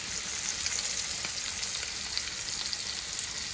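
A thick steak frying in a pan, producing a loud, continuous hiss of spattering fat with small crackles throughout and no one talking.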